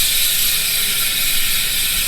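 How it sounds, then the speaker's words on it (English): A Halo rear bicycle hub with 120 engagement points freewheeling as the wheel spins, a fast, dense, continuous ratcheting buzz, loud and close with no voices. "That is 120 clicks of engagement per full rotation."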